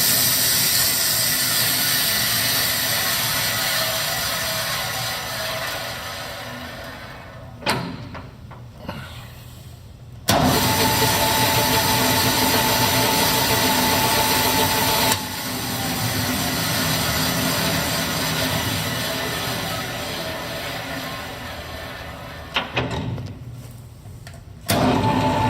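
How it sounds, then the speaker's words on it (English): A Grob 24-inch vertical bandsaw runs with a loud, steady mechanical whir and hum, the blade rattling inside its guide, the machine slowing and speeding up with a few knocks and clunks as its variable-speed pulley is adjusted. "You will hear the blade rattle a little bit inside the guide when this is running."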